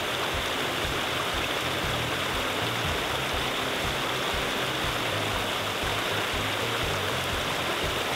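Steady rushing water of a mountain stream on the Cape Wrath Trail flows continuously and loudly, a dense, unbroken hiss with no other sounds.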